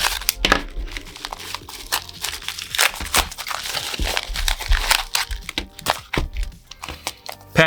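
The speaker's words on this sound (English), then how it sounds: "Let's cut this thing open." A package being sliced open with a small slice tool, with close crackling, crinkling and tearing of packaging, scattered thunks and handling noises in irregular bursts.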